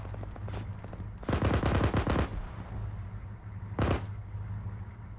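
Vehicle-mounted gun in Arma 3 firing two rapid bursts, a longer rattling volley followed by a short one, loud and close over a low engine hum.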